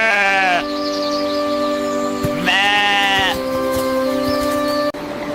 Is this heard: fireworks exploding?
no